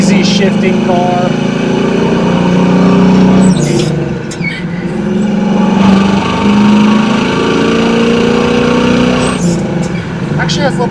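A 1976 Pontiac Trans Am's V8 revs up under throttle on a test drive, a loud, steady engine roar heard from inside the car that rises and falls over several gear changes.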